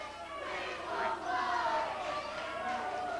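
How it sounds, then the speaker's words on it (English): Wrestling arena crowd at an NWA Anarchy match screaming and yelling in a steady, dense roar that swells around the middle, with voices blending into one loud mass. "The crowd here screaming for blood"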